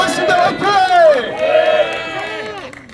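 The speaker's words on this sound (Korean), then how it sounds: "박수 한번 주십시오." Crowd at a Korean theological university student rally, loud shouts and cheering voices rising and falling together, close and energetic, with clapping buried beneath.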